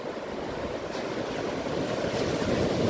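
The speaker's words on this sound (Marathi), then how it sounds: "लाटा पण मस्त उसळल्या" Continuous roar of ocean surf at Tambaldeg beach in December, a broad wash of breaking waves rising slightly toward the end, with some wind noise and no talking.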